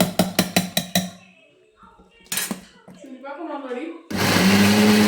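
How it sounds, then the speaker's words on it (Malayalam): A mixer grinder runs on mango chutney in short bursts, then stops for spoon clinks against the jar and stirring, followed by a loud, steady grinding whir at the end. "അരച്ചെടുക്കണം."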